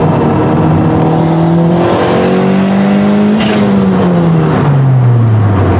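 A turbocharged B18 Honda Civic making about 300 hp pulls hard through the gears, its engine note climbing steadily, dipping at a shift, then rising again close by, loud and continuous.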